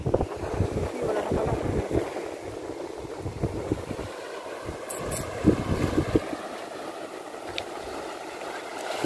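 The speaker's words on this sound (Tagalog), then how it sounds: "Nakaka-relax yung yung wave ng tubig, ang sarap pakinggan." Sea waves wash steadily onto a white-sand beach in Pangasinan, a continuous broadband rush mixed with wind buffeting the microphone, while people talk faintly throughout.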